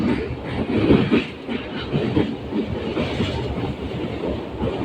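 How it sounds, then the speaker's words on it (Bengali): A train rumbles across the Ajay river bridge on the Katwa to Ahmadpur line, a loud, close, continuous roar with rhythmic wheel clatter and rattling carriages throughout, and no voices. "এখন আমাদের ট্রেন ক্রস করছে অজয় নদী"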